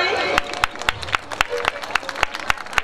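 An audience at a folk dance festival claps in scattered, uneven bursts over a constant murmur of crowd chatter, with the sharp claps close by.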